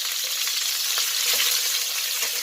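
Pork pata skin browns in a hot pan with a steady, close sizzle that holds at an even level throughout, with no voices.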